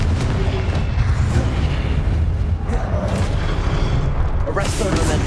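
Confringo, the blasting spell in Hogwarts Legacy, goes off with a loud booming explosion amid dense, rumbling combat noise, with a voice heard over the din.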